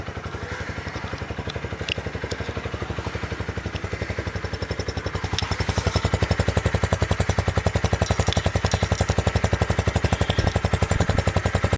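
Yamaha YB125Z 2022 motorcycle engine idling close by, a steady rapid exhaust putter that grows louder and more forceful partway through as the revs rise.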